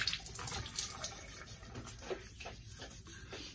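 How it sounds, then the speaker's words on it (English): Running tap water splashes steadily into a sink while a face is wetted before a wet shave, a close, continuous gush with no talking. "I'm gonna wet the face."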